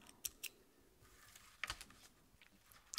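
Small scissors snip macramé cord flush against a bracelet, making a few sharp, quiet clicks spaced irregularly over a faint, hushed background.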